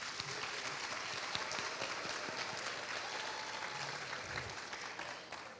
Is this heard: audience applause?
yes